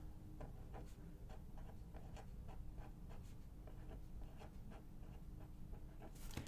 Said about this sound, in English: I'll just write in.